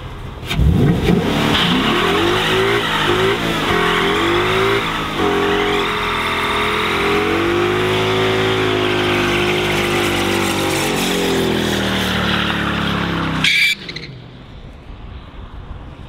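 A crashed Ford Mustang's engine revs hard and steadily for about thirteen seconds during a burnout, loud and close, then cuts off abruptly to a quieter background.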